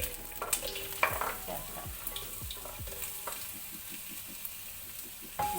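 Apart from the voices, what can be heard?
chopped onions sautéing in hot oil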